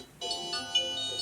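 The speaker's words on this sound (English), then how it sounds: "Is that my phone?" A mobile phone ringtone goes off during an interview, a bright electronic melody of rising tones heard clearly and fairly close, with no one talking over it.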